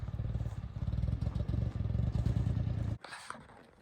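A cheap 55cc chainsaw engine runs poorly, a rough, uneven motor drone that pulses and sputters close by, then cuts out abruptly and is followed by a brief clattering scrape.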